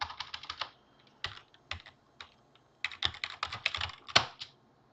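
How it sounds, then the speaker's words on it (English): Typing on a computer keyboard: close, crisp clusters of key clicks in quick bursts separated by short pauses, with irregular rhythm and one louder strike near the end. "If I can type. No, I can't type, I guess."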